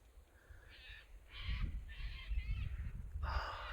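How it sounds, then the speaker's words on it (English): Cockatoos calling at sunset over a rural property, several harsh screeching calls in a loose sequence against an open outdoor background with low rumbling noise. "It's a cocky. It's a cocky. Flying into the sunset."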